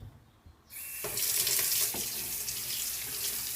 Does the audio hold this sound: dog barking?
no